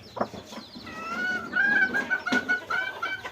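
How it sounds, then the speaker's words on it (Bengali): Village backyard hens raised at home, cackling and clucking up close in a short drawn-out burst, several birds overlapping with a sharp peck or flap near the end. "বাড়িতে দেখেন কত মুরগি এবার সব আমাদের মুরগি আমার মায়ের হাতে পোষা মুরগি দেখেন কত মুরগি"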